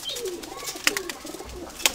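Pigeons coo softly nearby in a continuous low murmur, with a few sharper clicks and flutters breaking through.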